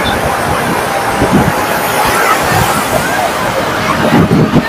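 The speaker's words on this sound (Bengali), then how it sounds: "সমুদ্রের গর্জন শোনা যাচ্ছে।" Sea waves roar and wash ashore on Puri beach along Chakratirtha Road, a loud broad rushing surge with crowd babble mixed in nearby.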